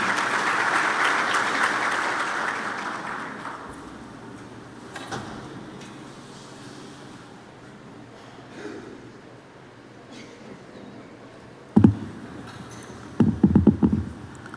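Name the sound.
audience applause at a conference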